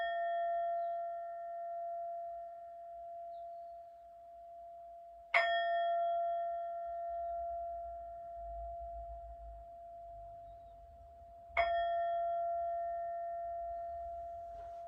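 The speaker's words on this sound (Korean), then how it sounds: "기도를 종소리에 맞추어서 잠시 드리도록 하겠습니다." A small bell rings twice during prayer at a church worship service, each bright struck tone sounding alone and ringing out long in a quiet room, roughly six seconds apart.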